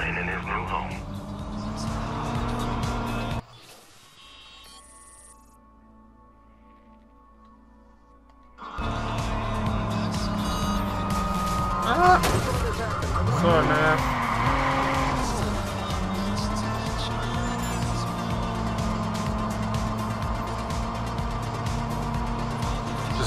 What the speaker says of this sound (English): Driving around the city, guys.